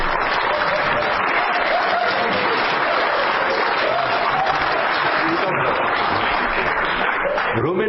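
A studio audience at a TV comedy series claps in a dense, steady round of applause that carries on throughout, with a voice faintly heard beneath it.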